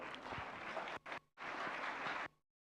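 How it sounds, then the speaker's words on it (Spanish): Audience applause at a Bible seminar held in a church, a steady wash of clapping that breaks off briefly, resumes, then stops abruptly. "Fuertes aplausos, por favor."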